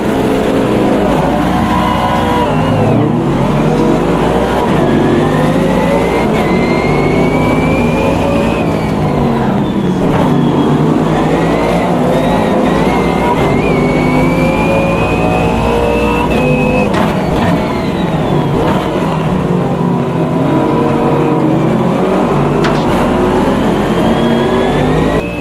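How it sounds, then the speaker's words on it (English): GT3 race cars lapping Brands Hatch in a racing sim video game, engines roaring loud and continuously for the whole stretch, with rising revs and gear-change sweeps as cars accelerate and brake through the corners, no talk. "we're going to go over to Brands Hatch with the GT3 class, and we're going to run a 3 or 4 lap race"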